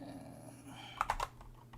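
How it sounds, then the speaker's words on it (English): Typing on a new Kinesis Advantage 360 split ergonomic keyboard: a quick cluster of four or five close, crisp key clicks after a quiet pause, with no talk. "So let's go back to some typing."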